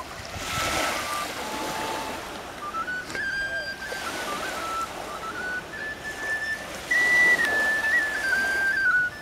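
A small pipe (dudochka) plays a thin, wavering whistle-like melody outdoors by the sea on Corfu, faint notes rising over a steady wash of surf that fills the background throughout.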